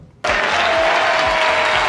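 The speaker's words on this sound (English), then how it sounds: "they're applauding because they love you" Loud applause from a large audience bursts in suddenly and continues steadily, dense clapping filling the space.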